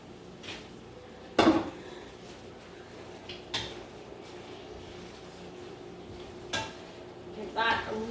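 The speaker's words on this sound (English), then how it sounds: "Give that a really good stir." Broccoli being stirred in a metal cooking pot: a few sharp clanks of a utensil against the pot at irregular intervals, fairly close, over a quiet kitchen hum with some speech.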